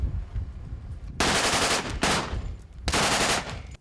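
Automatic gunfire from a machine gun at a weekend shooting range event, heard as three loud sustained bursts of rapid fire separated by short pauses, close and dominant.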